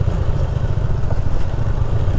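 A motorcycle descends a steep hill road on engine braking, its engine producing a steady low rumble and clatter, close and constant throughout with no voices.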